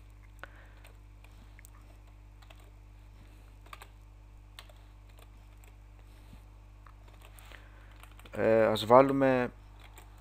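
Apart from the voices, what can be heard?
computer keyboard typing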